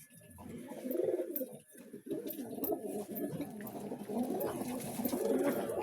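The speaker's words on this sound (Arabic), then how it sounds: "هاي الحمام اللي كشيناها من شوي" A domestic pigeon coos softly and repeatedly, close by, with faint rustling and light background noise around the calls.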